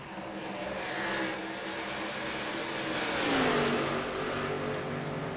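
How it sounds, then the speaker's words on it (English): Race car engines in an iRacing Xfinity Series sim race at Texas Motor Speedway drone steadily, several cars roaring together with a rising and falling pitch as a pack passes, loud and continuous with no talk. "Here comes Bill Molefield on the inside in that 911 car."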